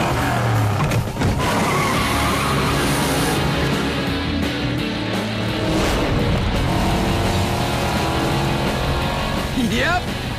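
A cartoon car speeds across salt flats and skids, its engine roaring loudly throughout with tire screeches, a brief whistling sweep near the end, and voices speaking over the racing noise.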